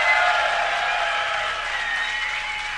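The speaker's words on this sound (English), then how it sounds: "give a cheer for MYM" A large crowd applauds steadily for Swedish Protoss player Sase at a DreamHack Summer StarCraft match, a dense, even wash of clapping that holds for the whole stretch without letting up.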